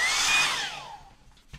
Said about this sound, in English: I'm going to get my hairdryer and dry this now